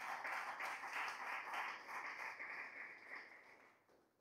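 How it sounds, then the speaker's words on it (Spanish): A church congregation claps hands as an offering to the Lord, producing a dense, continuous patter of many hands in a reverberant room that fades slightly toward the end. "Una ofrenda de palmas al Señor con todo el corazón."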